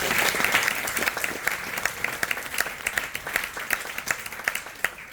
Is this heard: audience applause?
yes